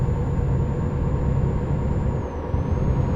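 A truck in Euro Truck Simulator 2 drives with a continuous loud engine drone and broadband road rumble, steady throughout with a slight dip near the end.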